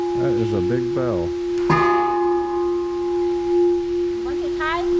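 A large bell at a temple in Khon Kaen, Thailand, is struck once, ringing with a long sustained hum that fades slowly, while people talk nearby before and after the strike.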